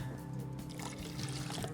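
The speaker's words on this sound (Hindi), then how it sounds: "इसमें मैं थोड़ा सा पानी डालूंगी क्योंकि हमारा बहुत वो हो रहा है गाढ़ा सा।" A small amount of water poured into a thick cooking mixture in a home kitchen, a steady low trickle that runs through the whole brief moment with no talk over it.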